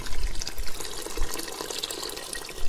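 Water from a tap runs and splashes into a steel pot for pasta, a steady rushing gush with small gurgles and surges, heard up close and alone.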